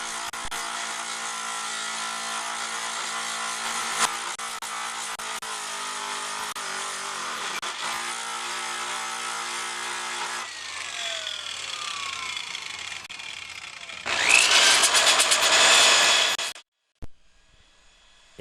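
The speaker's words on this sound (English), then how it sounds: "Now I'll just grind the area smooth." A drill fitted with a rust removal disc grinding metal smooth, heard as a long, loud, steady whining grind that shifts in pitch, then a harsher burst before stopping and briefly restarting.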